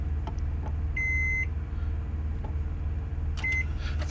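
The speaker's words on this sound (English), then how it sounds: "Now the bowl going in the microwave." A microwave oven hums steadily as a bowl of seafood mac and cheese heats inside, with two sharp electronic beeps from its keypad and a few soft clicks.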